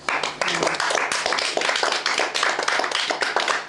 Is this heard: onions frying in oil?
no